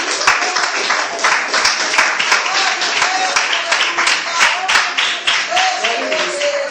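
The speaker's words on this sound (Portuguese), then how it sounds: "As palmas de glória do Senhor." A church congregation claps together in steady, continuous applause that fills the whole stretch, with voices and calls mixed in underneath.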